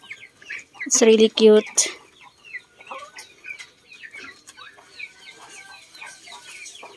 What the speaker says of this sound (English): So we turned them loose already, the chicks, because they are getting bigger in the pullet pen.